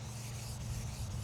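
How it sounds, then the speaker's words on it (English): Hand sanding of car body paint with 800 grit sandpaper on a Porsche panel, a steady close rubbing rasp that continues evenly throughout with no talk. "So we're going to be using 800 grit sandpaper for this"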